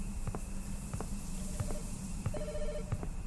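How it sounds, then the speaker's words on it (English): A phone rings in a horror video game, giving repeated short electronic trills in a steady rhythm against a constant eerie ambient drone, moderately loud and without speech. "Oh, we've been ignoring our phone."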